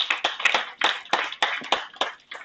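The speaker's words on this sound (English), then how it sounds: "He deserves a round of applause, colleagues." Applause at a national dialogue on HIV, TB, malaria and the law: a small group of hands clapping in separate, sharp bursts, fairly close and unaccompanied by talk.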